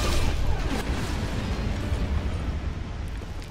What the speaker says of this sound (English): And there goes my fruit bomb.